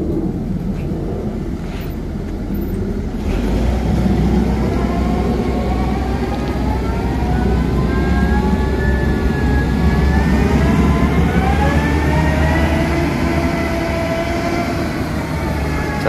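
An excavator driving a practice course for a stone-stacking skills exam, its diesel engine a steady, loud, close rumble that swells after a few seconds and holds, with a whining pitch slowly rising and falling over the drone.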